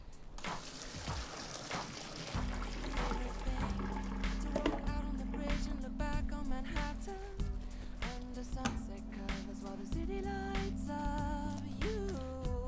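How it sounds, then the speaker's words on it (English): Water pours and splashes steadily into a sink as boiled potatoes are drained in a colander, with clinking of cookware over a low hum. "drain the water from the potatoes in the colander"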